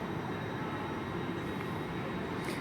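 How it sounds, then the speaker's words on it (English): A 09:17 service to Cardiff Central pulls out of London Paddington, a steady, loud broadband rumble and roar of the departing train filling the station with no break, no voices heard. "I think it's this service departing out now"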